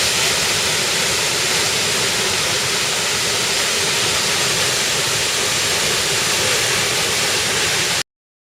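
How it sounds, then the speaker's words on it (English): Wailua Falls in Hawaii roars as a steady, loud, unbroken rush of falling water for about eight seconds, then cuts off abruptly into silence; no voices are heard. "The bird's nest at the base of the waterfall."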